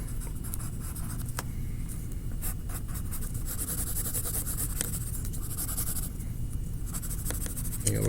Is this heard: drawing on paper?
yes